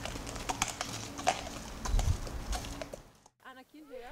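Scattered clip-clop of horse hooves on a hard surface, with people talking nearby.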